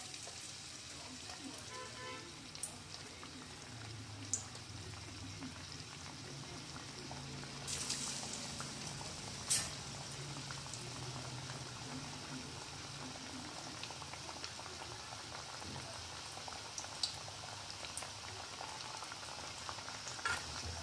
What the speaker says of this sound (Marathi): आता इथे तेल गरम झालेलं आहे, आपण हे वडा टाकूया आणि तळून घेऊया।